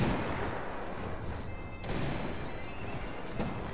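Cannonball artillery fire in the video game Cossacks, a dense roar of battle with several muffled booms and crashes over a few seconds.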